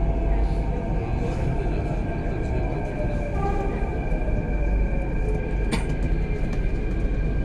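Passenger train in Mumbai running toward Ghatkopar station, a steady close rumble of wheels and carriage noise with faint tonal squeals, continuous throughout.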